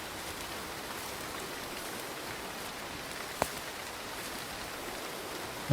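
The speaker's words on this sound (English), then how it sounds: "The rain has come." Soft, steady rain hiss in the video game Ember's Verge, a faint even wash of falling drops that continues throughout, with one brief click partway through.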